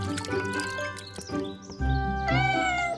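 A cartoon cat meows clearly and fairly close, with a longer drawn-out meow toward the end, over soft background sounds.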